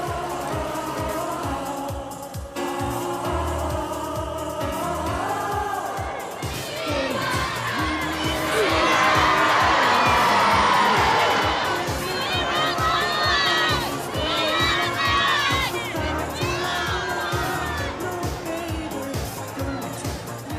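A large crowd cheers and shouts for Princess Diana, a dense roar of many voices that swells loudest in the middle and stays steady throughout, with children's cries mixed in.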